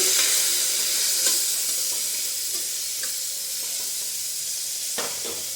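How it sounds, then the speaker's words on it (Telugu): Coriander, curry leaves, onions and green chillies fry in a pan for a drumstick-flower dal, giving a steady close sizzle with faint stirring scrapes throughout. "కొత్తిమీర, కరివేపాకు, ఉల్లిగడ్డలు వేసుకోవాలి. ఇవి కొంచెం వేగాలి."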